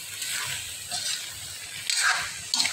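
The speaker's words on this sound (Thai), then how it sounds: "ผัดคั่วกันเลยนะครับผม" Vegetables stir-fried in a pan with fermented fish sauce, a steady hiss of sizzling oil broken by soft stirring scrapes and brief louder bursts as the food is tossed.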